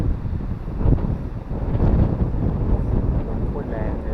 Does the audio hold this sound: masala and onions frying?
no